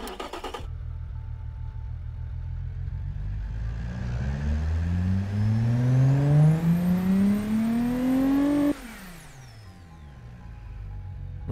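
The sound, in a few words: six-cylinder car engine revving in video game Automation test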